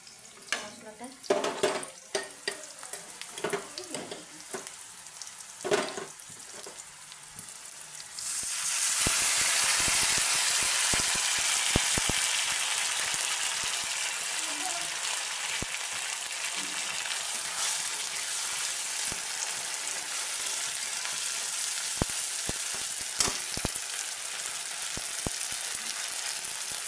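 Onions and spices go into a hot pan, starting with some clatter and stirring before a loud, steady sizzle rises and holds, with scraping stirs near the end.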